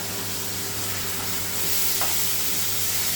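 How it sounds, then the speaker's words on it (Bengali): About three spoonfuls of ginger garlic paste frying in a pan for chicken curry while being stirred, a continuous close, even sizzle with faint scraping. "এটাকে আমি দু মিনিট নাড়াচাড়া করে"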